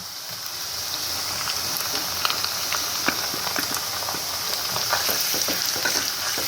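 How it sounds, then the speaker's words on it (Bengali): Ginger-garlic paste hitting browned onions in hot oil, crackling and spattering as it is stirred; a close, steady sizzle dotted with quick utensil clicks and pops, no voices. "পেঁয়াজটা ভাজা ভাজা হয়ে গেছে আমি এবার দিয়ে দিচ্ছি আদা রসুন বাটা"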